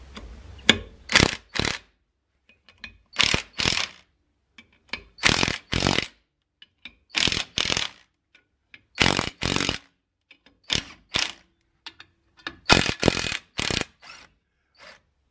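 Repeated short ratcheting bursts from tightening 8mm screws into the two tapped holes of a Toyota Hilux brake drum to draw it off, coming in quick clustered spurts with pauses between, close and fairly loud with no talk.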